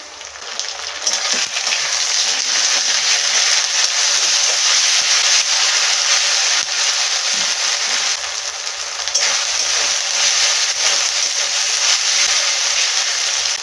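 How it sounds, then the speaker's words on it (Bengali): Ginger garlic paste fries with onions in oil for a spicy mushroom curry, giving a dense, even hiss of sizzling that runs steadily throughout, with faint scrapes and no talking. "আদা রসুন পেঁয়াজের সাথে ভাজা হয়ে গেছে"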